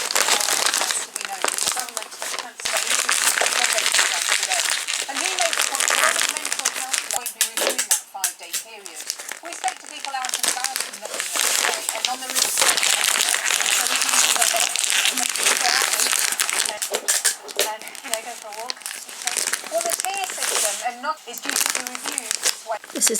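Wrapping paper crinkling and rustling while presents are wrapped, a busy near crackle running almost continuously with brief pauses, a voice talking now and then.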